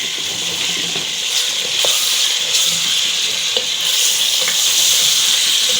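Garlic ginger paste sizzling loudly in hot oil while being stirred for an aloo gosht curry, a steady bright frying hiss with occasional scraping stir clicks, close and alone.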